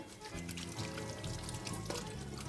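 Tap water runs steadily into a sink while hands are rinsed after cutting meat, a close continuous splashing hiss with shifting gurgles as the hands move under the stream, and no talking.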